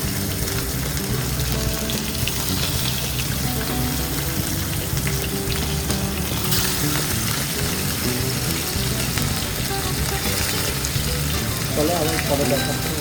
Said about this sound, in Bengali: এই যে মাছ ভাজা চলছে, মাছটা আমি ভাজতে যাচ্ছি